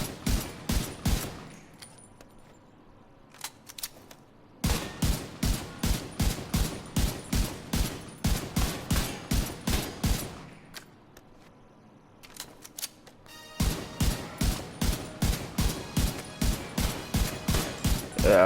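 Rapid bursts of M1A rifle gunfire in The Division 2, loud sharp shots fired in quick rhythmic volleys with two short pauses, no talking.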